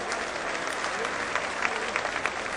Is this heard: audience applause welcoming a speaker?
yes